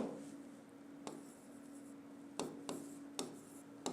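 Writing on a classroom board during a chemistry lesson, with a steady faint scraping broken by several sharp taps and strokes at an uneven pace, close and quiet with no one talking.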